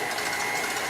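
Electric mixer on high speed beating egg whites with cream of tartar for Japanese pancakes, a steady loud whirring drone with no pauses.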